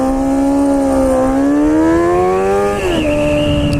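A motorcycle engine drones loudly close by, its pitch climbing steadily as it accelerates, then dropping sharply as it shifts or passes, with no talking over the steady roar.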